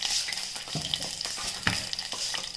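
Urad dal frying in hot oil for a tempering, a steady soft sizzle with a few stirring clinks, close and fairly quiet, no talking.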